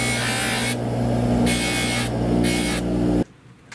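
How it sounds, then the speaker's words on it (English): A buffing machine works a sterling silver bracelet with a loud, close, steady grinding whir that pulses in regular surges, then cuts off abruptly near the end. "Now I'm going to take them to the buffing machine and get this surface all nice and smooth and buffed."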